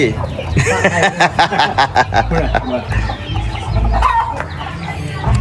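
Chickens cluck loudly and close by on a farm, with rapid bursts of clucking and a rooster crowing, while people talk over the birds.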